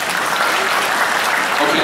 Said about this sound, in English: Fellas, just clap.